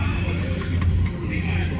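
Steady engine rumble of an off-road car on the move, a constant low drone with some rattling, close and continuous throughout.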